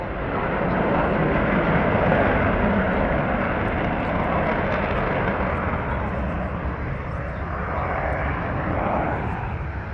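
Avro Vulcan bomber engines at Dunsfold, heard as a constant loud broadband jet roar that holds steady throughout with no letup, filling the whole clip.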